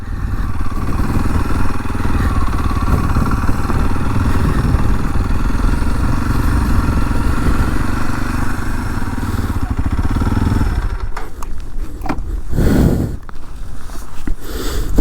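A 2023 Kawasaki KLX230 233cc motorcycle engine drones loud and close while riding on a freeway, a steady buzzing roar with wind rush that breaks into gusty buffeting and thumps near the end.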